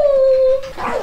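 A cocker spaniel puppy gives a single loud, close, drawn-out whine that tapers into a short breathy yelp, heard alone.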